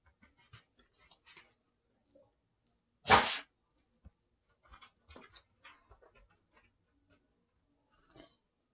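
A German Shepherd dog makes a single loud, harsh hacking burst near the microphone in an otherwise quiet indoor room, surrounded by faint scattered clicks and small handling noises.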